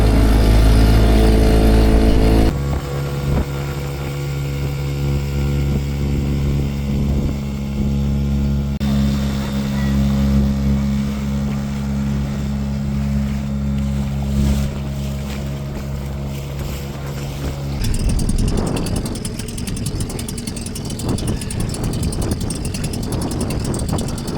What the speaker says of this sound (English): start up the engine, and make our way out into one windy sea